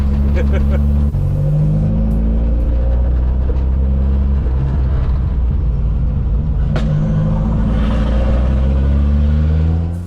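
A Mk2 Ford Escort engine rumbles loudly and steadily up close, its pitch shifting as it revs and pulls away, with a sharp crack near the middle.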